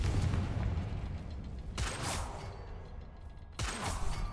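The Confringo fire spell going off in a Harry Potter video game, two sharp whooshing blasts about two seconds apart over a low rumbling background, fairly faint.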